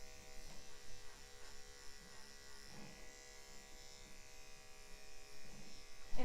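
Electric clippers buzz steadily and close up while shaving a Shih Tzu during grooming, a constant motor hum with slight rises as the blades work through the coat, and no talking.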